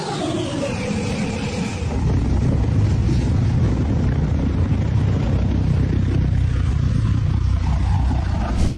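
An Enstrom light helicopter flies close by with a steady, loud rotor and engine roar that holds constant, no voices.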